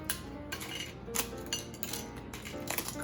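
Baked sourdough cracker snapped by hand into rustic pieces, a series of crisp close cracks and clinks, several sharp breaks spaced unevenly over a few seconds with no talking.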